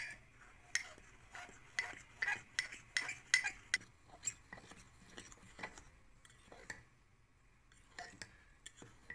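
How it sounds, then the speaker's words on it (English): A fork stirs cocoa powder, baking powder and dry ingredients in a mug, clicking and scraping against the sides in quick, light, irregular taps, close but quiet, with no talking. "Now mix it well with the help of fork."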